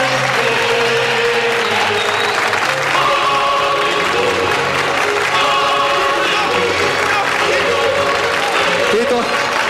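A standing audience at a televised competition applauds loudly and without a break, dense clapping filling the space while a commentator talks over it.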